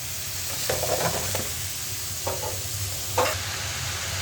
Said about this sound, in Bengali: এবার দিয়ে দিচ্ছি ধুয়ে রাখা আলু আর কাঁকরোল